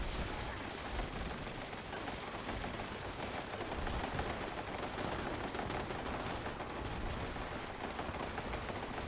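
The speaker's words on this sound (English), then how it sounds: "Now, the artillery's going to hit everything else as well." Artillery pounds down in Fallout 76 as a dense, continuous barrage of gunfire and blasts, a loud unbroken roar of overlapping shots and impacts with no pauses.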